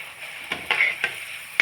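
A puri deep-fries in hot oil while being pressed down to puff up, giving a steady bright sizzle with a few sharper bursts of crackle, close and without speech.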